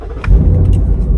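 A convertible car's engine starts with push-button automatic start, a brief click followed by a loud, steady low rumble that settles into idle, close by with no talk.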